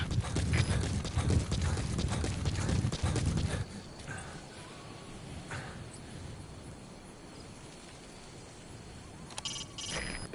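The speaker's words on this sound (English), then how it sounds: "Use your horse." A horse's hooves clip-clop in a quick, steady rhythm in Metal Gear Solid V: The Phantom Pain, loud at first, then stop, leaving a quiet ambient bed with faint scattered sounds and a brief return of activity at the end.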